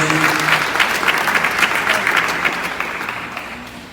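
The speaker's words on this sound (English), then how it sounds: "Please put your hands together for her one more time." A crowd at a skills development centre graduation gives a graduate a loud round of applause that starts strong and gradually fades.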